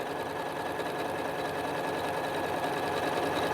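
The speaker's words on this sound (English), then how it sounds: "So now as I'm sewing," A Janome computerized sewing machine runs steadily through a decorative stitch, giving a continuous even motor whir and needle chatter with no pauses.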